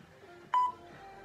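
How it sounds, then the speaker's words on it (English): A workout timer emits a single short electronic beep during a cardio session, clear and fairly loud over a faint background. "We just set the timer."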